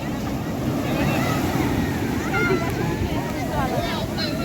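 Sea waves surge and wash in continuously along a beach, a steady loud roar with wind buffeting the microphone throughout, while people talk over it.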